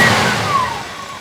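Engine of a 1972 Ford Highboy pickup truck running after a patched-together rebuild, a steady loud mechanical drone that fades slightly over a brief moment, heard alone.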